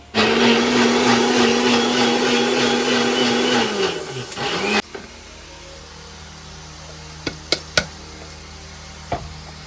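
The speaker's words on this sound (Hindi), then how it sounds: "अब दोबारा से भी पीसेंगे, ऐसे ही सारे मखाने हम पीस कर रख लेंगे।" A mixer grinder whirs loudly and steadily while grinding makhana (fox nuts) into powder, then cuts off abruptly. A few sharp knocks and clicks follow in the quieter stretch after.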